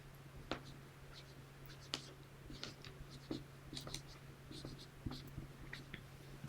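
Pen writing by hand on paper close by, a quiet run of short scratchy strokes and taps over a steady low hum, with no talking.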